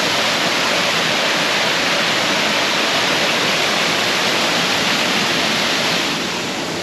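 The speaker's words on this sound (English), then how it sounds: "we're at the top of a waterfall" A waterfall seen from its top on a bushwalk in a national park near Sydney, Australia, roars as a steady, loud, dense rush of falling water, unbroken throughout with no voices.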